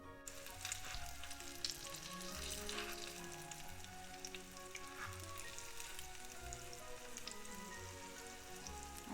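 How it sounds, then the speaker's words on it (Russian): A steady, soft sizzle of syrniki frying in oil in a pan over moderate heat, with light crackles and pops throughout and no voices. "жарьте на 7, чтобы огонь был умеренным и сырники не подгорели"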